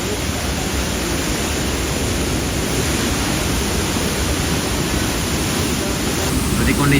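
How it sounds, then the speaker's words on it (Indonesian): Roaring flow of the flooded Batang Bayang river, muddy and swollen beneath the Puli-Puli root bridge, a loud continuous broadband rush that holds steady throughout with no pauses. "Kita ada aja di tempat kita berdiri ini udah agak terasa dentuman aliran sungainya sananya."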